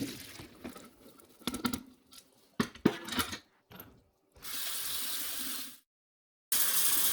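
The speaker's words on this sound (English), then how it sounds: "we are going to just rinse the water from the hominy and just rinse it with clean water" Tap water runs and splashes while pre-cooked hominy is rinsed in a kitchen sink, with irregular patters and clunks, then a steady stream of running water that stops briefly and starts again.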